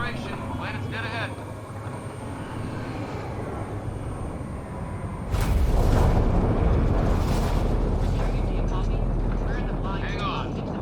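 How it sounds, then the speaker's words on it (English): A spaceship in the video game Mass Effect Andromeda makes its atmospheric entry with a deep roaring rumble that swells into a louder, buffeting blast midway, while characters' voices speak over the noise. "Initiating atmospheric entry."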